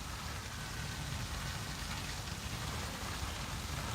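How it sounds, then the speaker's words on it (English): Steady rain pouring down outdoors, a dense, even hiss of drops on surfaces that carries on without pause at moderate loudness, with no voices over it. "It's raining pretty good right now."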